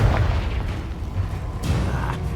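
A Confringo blasting spell explodes in the Hogwarts Legacy video game, giving heavy booming blasts with deep low rumble and crackling bursts, loud and continuous over the in-game battle.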